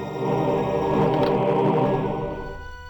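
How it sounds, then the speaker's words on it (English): Secret-found and chest-unlock jingle from the Blood Omen video game: a dense, shimmering sustained chord swells in for about three seconds, then thins and fades, with no talk over it. "That sound is the sound they use when you unlock chests, but it's also the sound when you find a secret."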